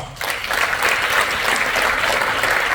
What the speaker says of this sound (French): Est-ce qu'on peut applaudir pour cela?